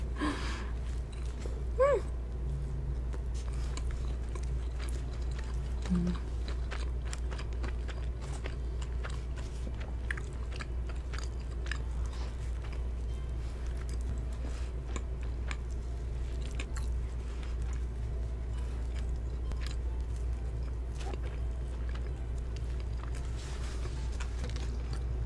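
Someone slowly chews and bites into a McDonald's cheeseburger up close during a quiet mukbang, soft wet squishes and occasional crunches over a steady low background hum for a long stretch.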